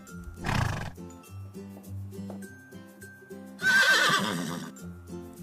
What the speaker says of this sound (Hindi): ऐसा लगता है पहले दरवाजे के पीछे हमने घोड़े को खोजा।